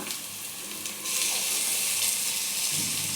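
Ginger paste fries in hot oil, with a bright, steady sizzle that jumps louder a second in and holds; no one speaks.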